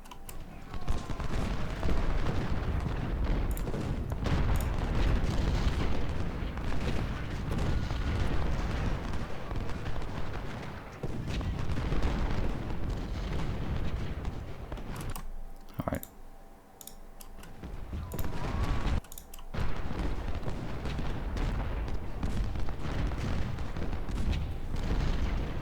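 Cannon and artillery fire in the Ultimate General: Civil War video game, a dense, continuous barrage of booms and crackling gunfire that briefly thins out midway before resuming at full intensity.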